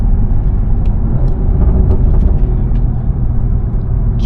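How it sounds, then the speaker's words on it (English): Steady low rumble of passing road traffic, engines droning continuously with occasional faint higher hisses, no voices. "Holy traffic, brother."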